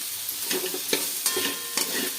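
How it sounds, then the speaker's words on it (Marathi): Potatoes for a Navratri fasting khichdi fry and sizzle in a pan while a spoon stirs them, giving several scraping strokes over a steady close-up hiss, with no talking. "आपण इकडे खिचडी परतायला टाकली म्हणजे बटाटे परतू राहिले"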